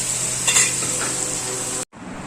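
Sardine fish frying in a pan at home, a steady close sizzle with faint stirring and utensil clinks before it cuts off briefly and resumes more quietly.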